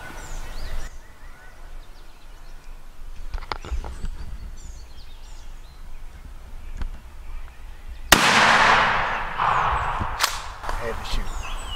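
A single loud shotgun blast is fired at a wild turkey during a spring hunt. It cracks sharply and rolls off in a long echo through open woods, after a stretch of quiet rustling and hushed whispering.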